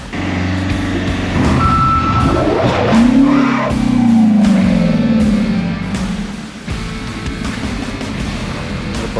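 A truck backing a load into a curtain-side trailer sounds a loud, rapid series of reversing beeps over a rumbling diesel engine and hissing air brakes, with the engine revving midway.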